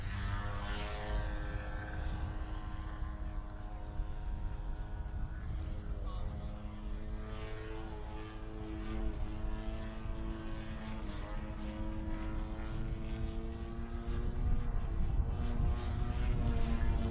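A model airplane's propeller engine drones at a model airshow, a steady buzzing tone whose pitch slowly glides and shifts as the plane flies, mid-distance and continuous over low outdoor rumble.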